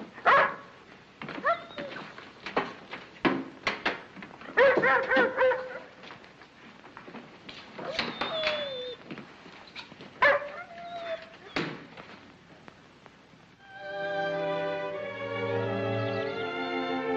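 A dog from a 1945 film barks and yips sharply in scattered bursts, close and fairly loud, with whimpers between, before music swells in near the end.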